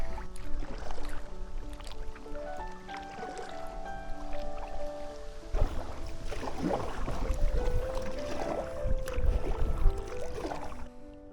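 Paddling a packraft along a reedy lakeshore, close water swishes and drips from the paddle in an uneven rhythm, with faint creaks of the boat and no talk.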